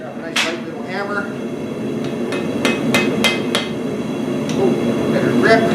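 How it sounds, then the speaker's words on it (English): A light little hammer shapes metal, delivering a handful of sharp, bright strikes in an irregular rhythm, some clustered close together, over a steady background hum. "got a nice light little hammer."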